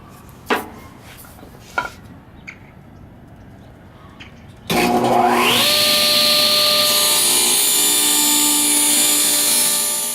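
A power saw spins up and rip-cuts through a wooden board for the final six inches, a loud sustained whine after a few light knocks and handling taps.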